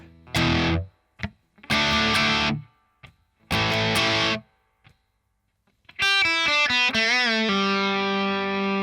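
A distorted electric guitar plays the opening of a riff: three loud chord stabs separated by short muted chugs, then a bending lead lick that ends on a sustained ringing chord.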